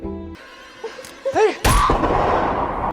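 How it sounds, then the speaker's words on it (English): A gunshot fired by a man in a woodland movie scene, heard as a sudden loud blast that follows whooping ape-like calls and leaves a long echoing rumble trailing off. "The gunshot alerts the other apes, as well as the humans that Carver is traveling with"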